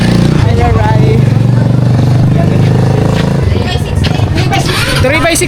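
A motorcycle ridden along a rough road toward a river gives a loud, continuous engine drone that dips briefly near the end, with people talking over it throughout.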